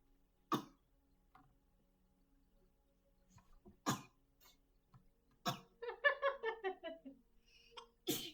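A woman sneezes three times, each a sharp, sudden burst, with a voice talking between the later ones.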